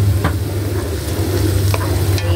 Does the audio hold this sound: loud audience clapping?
no